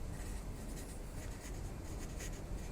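Chalk or marker writing out equations on a classroom board, a continuous scratchy, rubbing stroke sound heard close and steady with no talking over it.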